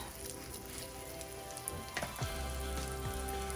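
Cornbread batter with bacon and green onion frying in a cast iron skillet, a steady close crackling sizzle with sharp pops, swelling louder midway as more batter hits the hot fat.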